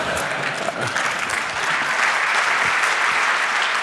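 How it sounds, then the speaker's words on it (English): Dense, steady applause from a large audience at a Chaos Communication Congress conference talk on the Tor Project, sustained and loud throughout with no pauses. "All of those people clapping"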